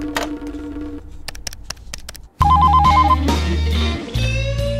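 A telephone rings in repeated electronic bursts, loud and close, over layered musical tones.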